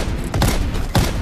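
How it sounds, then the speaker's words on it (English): Two loud, close blasts of a sawed-off shotgun in Call of Duty, each a sharp boom about half a second apart over a busy background. "Now we have the garbage sawed-off shotgun"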